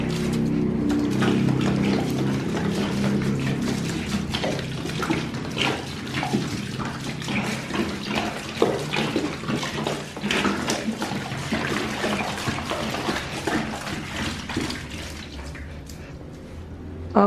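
Rice water pours steadily onto compost in a continuous splashing stream, loud and close, with no talking over it.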